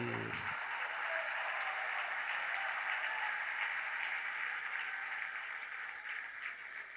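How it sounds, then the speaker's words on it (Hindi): An audience claps steadily through a Jain sermon (pravachan) in Lalitpur, a dense, loud wash of applause from a large crowd that begins abruptly after a brief voice and fades slightly toward the end. "इसलिए तालियां बजी"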